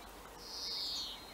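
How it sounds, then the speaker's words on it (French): A European greenfinch sings its trill, a high, buzzy rolling phrase lasting about a second. It stands out faintly against quiet outdoor background noise. "c'est la trille qui est le chant spécial du verdier d'Europe"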